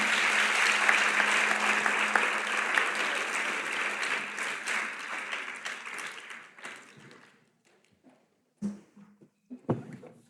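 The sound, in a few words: audience applause for the congress members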